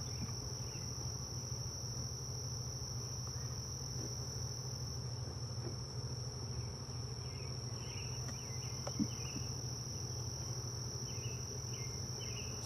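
Angry honeybees swarm around a beekeeper's gloves, making a steady, dense buzzing drone with a high insect whine over it and a few faint clicks.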